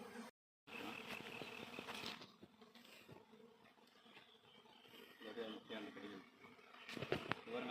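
A large swarm of about 50,000 honeybees forms a long cluster, and a faint, steady buzzing hum runs under close talking throughout.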